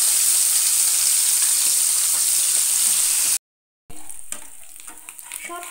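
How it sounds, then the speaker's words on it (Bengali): Tangra fish frying in hot oil over a medium gas flame, giving a loud, steady, dense sizzle that cuts out briefly, then returns with lighter, crackling bursts. "গ্যাসের ফ্লেমটাকে মিডিয়ামে রেখে মাছগুলোকে ভালো করে একটু লাল করে ভেজে নিতে হবে।"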